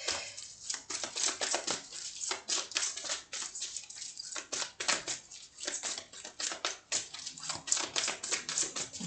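Tarot cards being drawn and handled during a reading, a dense run of crisp paper clicks, flicks and shuffling snaps, close and fairly quiet, with no voice over it.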